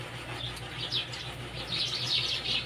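Birds chirping and calling at a moderate distance, with scattered bright tweets over a steady low background hum, outdoors in the Philippines with no one talking.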